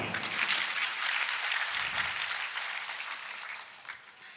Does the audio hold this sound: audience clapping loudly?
yes